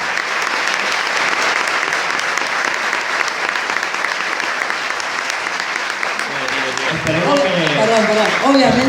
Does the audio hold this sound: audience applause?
yes